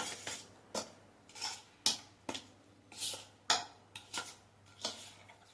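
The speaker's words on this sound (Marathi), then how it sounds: "हा मसाला आधी चमच्याने सगळा मिक्स करून घ्यायचा आहे" A spoon stirs dry masala spices into curd in a bowl for paneer masala, clinking against the bowl in a steady series of about ten light taps and scrapes, fairly close and alone.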